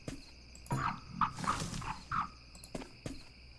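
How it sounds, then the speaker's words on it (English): Several deep croaks from big toads in the Dark Parables 2 video game arrive one at a time at irregular intervals, fairly loud and close, with sharp clicks between them over a quiet ambient hum. "Big ass toads."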